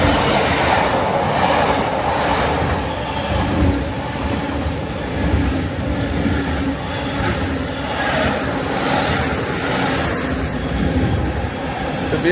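Class 66 locomotive hauling a long Freightliner freight train past, a steady loud rumble of wagons with rhythmic wheel clatter and occasional high squeals, continuous for the whole stretch.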